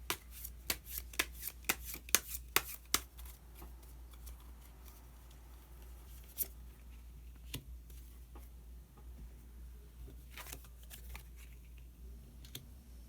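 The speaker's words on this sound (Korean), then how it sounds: "그러면 한 장의 카드를 더 뽑고 이야기 계속 나오도록 하겠습니다" Tarot cards shuffled at close range give a quick rapid flurry of sharp riffling clicks, then scattered single snaps and soft handling sounds as cards are drawn.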